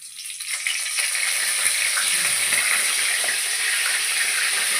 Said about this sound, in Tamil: எண்ணெய் இப்போ கொஞ்சம் பொரிஞ்சு வந்துருச்சு